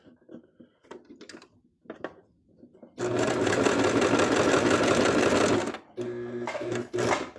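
A sewing machine stitches a plush bunny toy in steady, loud whirring bursts, a long run of about three seconds followed by a shorter one, with quiet handling sounds of fabric before.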